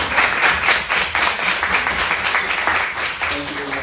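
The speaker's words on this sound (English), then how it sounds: "let's give Drew a big round of applause for this amazing achievement" At a book talk in Washington, D.C., an audience gives the author a big round of applause, loud and close dense clapping that stays full for the whole stretch and tapers slightly at the end.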